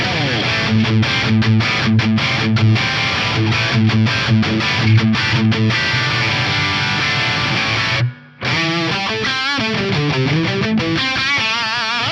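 Distorted electric guitar through a Fractal unit playing a chugging riff with a spacious London plate reverb tail, briefly cutting out before resuming with sustained notes.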